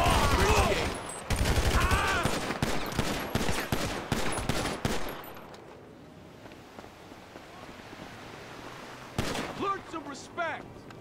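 Gunfire in the video game Grand Theft Auto V, a rapid burst of loud shots in the first five seconds amid shouting voices, then a quieter windy stretch before another short burst near the end.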